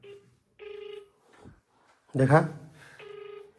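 Telephone tones beep in short, steady bursts during a call, with a voice breaking in loudly between the tones.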